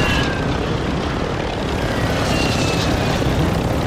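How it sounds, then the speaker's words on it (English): A helicopter flies in the video game Call of Duty, its dense rotor thrum and engine roar steady, loud and close throughout, with no speech. "Man, this fucking chopper is flying."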